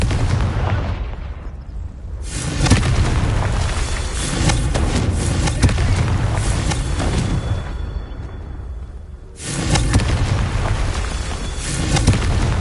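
Confringo blasting-spell explosions in Hogwarts Legacy land as loud, booming blasts with crackling debris, two heavy bursts separated by a brief lull and then a fresh blast near the end.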